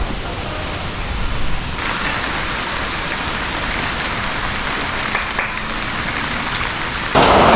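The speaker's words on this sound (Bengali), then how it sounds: "ঝড় বৃষ্টি হচ্ছে" Heavy rain in a sudden Kalbaishakhi storm, a dense continuous roar of downpour on surfaces, loud and close throughout, with a harsher surge near the end.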